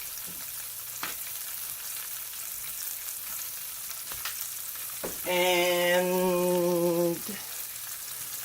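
Green beans with salt and pepper cook in a pan, a soft, steady sizzle under a quiet kitchen background, briefly overlaid by a loud sustained tonal hum lasting about two seconds.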